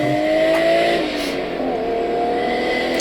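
A Toyota 1J inline-six engine revs loudly and steadily, its harmonic drone rising then settling into a sustained high idle with no voices over it.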